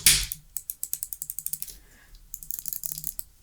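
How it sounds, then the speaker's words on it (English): Sharp clicking of the R1 and L1 buttons on a Sony PS5 DualSense controller (BDM-030) fitted with smart triggers, a rapid steady run of close, crisp clicks with a brief pause midway. "test R1 and L1 just to make sure that everything's clicking properly"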